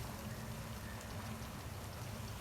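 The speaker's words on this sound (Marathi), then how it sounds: "आता हे वांगे तेलात चांगले फ्राय होऊ द्यायचे." Stuffed brinjals fry in oil in a kadai, giving a faint, even bubbling hiss that runs steadily with no voices.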